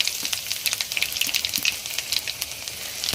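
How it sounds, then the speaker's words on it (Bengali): Panch phoron spices with a dried red chilli frying in hot oil: a continuous crackling sizzle with dense tiny pops and spits, fairly quiet and close, with no talking. "দেখো 5 ফোড়নটা ভাজা ভাজা হয়ে এসেছে প্রায়"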